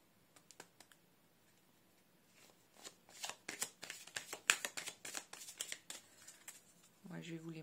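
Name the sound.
shuffling and drawing cards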